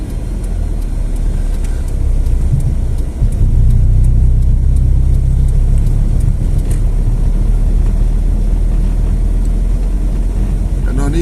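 A car travels along road number 63 in Poland and makes a turn, giving a steady, loud engine and tyre drone from inside the car that swells slightly partway through and then holds constant.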